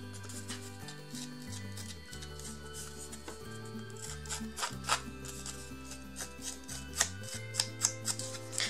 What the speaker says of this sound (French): je vais quand même altérer les bords